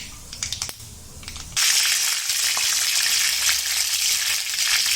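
Tempering spices and curry leaves hitting hot oil for puffed rice chivda, a few small crackles and then a sudden loud, steady sizzle that carries on without talk.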